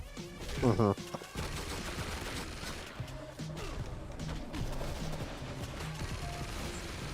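Gunfire in the fighting game PlayStation All-Stars Battle Royale crackles in steady rapid bursts alongside mechanical clatter and game effects, with a sharp electronic tone near the start.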